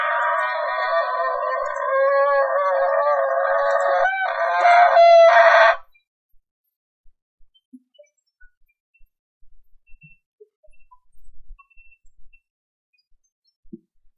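Chickens in a video game cluck and a rooster crows loudly for about six seconds, then cut off abruptly, leaving near silence with a few faint ticks.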